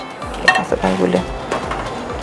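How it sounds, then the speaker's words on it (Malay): Coconut milk gravy boiling in a pot is stirred, giving soft scraping and bubbling sizzle with a few light clinks of utensil on metal, close and steady for a couple of seconds. "saya pun kacau bersantan ni, kuah ni"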